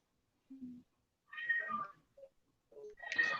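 A cat meows several times, short separate calls with gaps between them, fairly close and clear against near silence.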